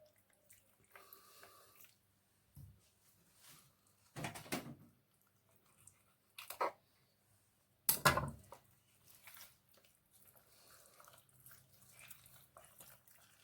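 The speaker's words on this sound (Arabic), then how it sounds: "بحب افتح الفراخ وبنضف الفراخ تحت الحنفية" Water splashes from a kitchen tap while raw chicken is washed under it, coming in short, separate bursts with quiet gaps between, close by in an otherwise still room.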